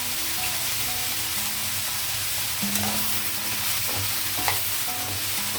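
Cauliflower and beans are stirred in a hot pan with salt, chili powder and turmeric over a steady sizzle. A spoon scrapes and knocks now and then against the pan.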